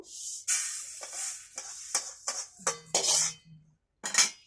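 A kadai (wok) set back down on a stove, a series of close metallic clanks and scrapes in uneven bursts, with a brief faint ringing tone near the end.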